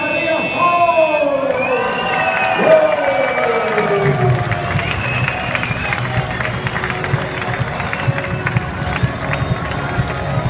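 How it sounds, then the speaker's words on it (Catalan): A large crowd cheers and applauds at the podium ceremony of a 24-hour race at Circuit de Barcelona-Catalunya, celebrating the winning team captain, Josep Maria Fol. The sustained, dense roar follows an announcer's voice over a PA at the start. "l'aplaudiment pel Josep Maria Fol"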